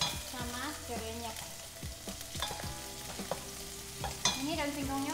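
Shallots and lemongrass sauté in hot oil in a pot, a soft background sizzle broken by repeated utensil scrapes and clinks against the pan over several seconds, with no voices.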